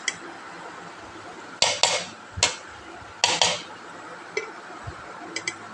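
Dishes and a spoon clink in short, sharp bursts while rice is served onto a plate for a father's meal, with quiet pauses between the clatters.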